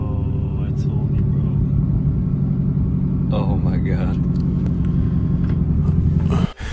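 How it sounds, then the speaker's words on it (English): A car losing its exhaust system while driving, with a loud steady low engine rumble throughout, a scraping clatter in the middle and an abrupt cut near the end, under excited voices. "You took out the phone and pretty much just recorded yourself losing your exhaust system"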